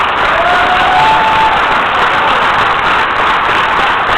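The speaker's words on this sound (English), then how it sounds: "Please give them a round of applause." A church rally crowd bursts into loud applause and cheering, a continuous roar of clapping with whoops rising over it, steady and close throughout.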